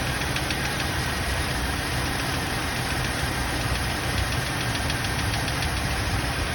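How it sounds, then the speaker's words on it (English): A 1997 Buick Park Avenue engine idles roughly and shakes, giving a steady, close, loud rumble with an uneven knocking pulse and no voices over it. "I see how the whole engine rocking."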